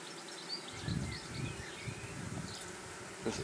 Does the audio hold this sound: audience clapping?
no